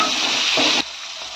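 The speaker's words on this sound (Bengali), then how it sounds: "টমেটোটা একটু ভালো করে ভাজা ভাজা করে দেব।" Loud, steady sizzling of tomato frying in hot oil, close by, then it suddenly drops to a much quieter hiss partway through.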